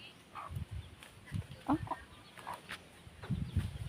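Scattered chicken clucks come in short bursts over a quiet background, fairly close, with brief murmurs of a voice in between.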